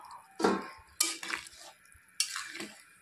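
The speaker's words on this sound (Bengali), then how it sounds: "এখন আমি ঝোলের মধ্যে বড়াগুলো দিয়ে দেব" Lentil fritters made from masoor dal drop into simmering curry gravy in three separate splashy plops, each followed by a short wet bubbling as the pieces settle into the liquid.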